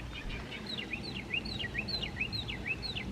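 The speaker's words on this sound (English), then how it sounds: "You'll hear the birds." Small birds chirp outdoors in a mobile home's garden, a run of quick, bright repeated tweets in a steady rhythm over a faint low background hum, moderately near and without any talk.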